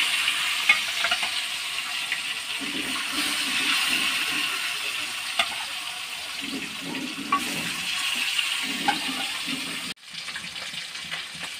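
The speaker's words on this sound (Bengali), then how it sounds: "মাছটাকে লাল লাল করে ভেজে নিয়েছি।" Fish fries in oil in a wok, giving a continuous soft crackling sizzle at moderate level throughout, with a few faint stirring scrapes and no voices.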